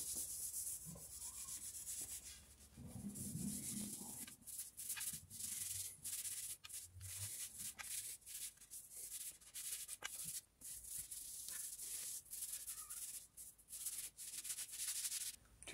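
Steady close rubbing of 120 grit sandpaper across wood, a continuous scratchy hiss with repeated stroke rhythm, quiet and alone without talk.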